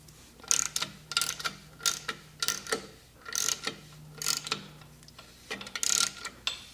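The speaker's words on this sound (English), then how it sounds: "So what I'm doing is using an inch-pound gun, which is 132 inch-pounds to start." An inch-pound torque gun tightening bolts on a fully built Subaru engine, giving a steady run of close mechanical ratcheting clicks and whirs in repeated short bursts, with no voices.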